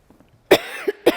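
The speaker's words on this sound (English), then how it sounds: "I'm so sorry about the coughing." Two or three sharp, close coughs from a woman during an indoor talk on Maine quilts, spaced across about a second.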